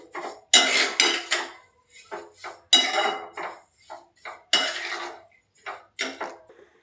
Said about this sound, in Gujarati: અને બધું મિક્સ કરી લેશું. ધીમા ગેસે આપણે એને શેકાવા દેશું.